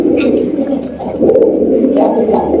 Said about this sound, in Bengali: এখানে রয়েছে একটা ইন্ডিয়ান কাগজি কবুতর